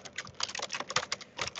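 Quiet, steady typing on a computer keyboard: rapid clicking keystrokes in an uneven rhythm, close and alone with no talk.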